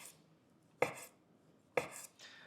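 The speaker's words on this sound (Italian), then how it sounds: "Vado, lo taglio a listarelle" Knife slicing guanciale into strips on a board, two sharp, close chops about a second apart, each followed by a short scraping drag, quiet between strokes.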